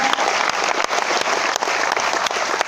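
A seminar audience at a direct-selling business meeting in Bhilwara, Rajasthan claps loudly and steadily, a dense, continuous wash of applause throughout.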